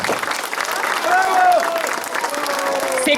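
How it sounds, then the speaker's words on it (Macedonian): A festival audience at the Ilinden gathering in Rusinovo applauds steadily and densely throughout, the clapping sustained and loud while voices carry over it. "Еден огромен аплауз за сите нив."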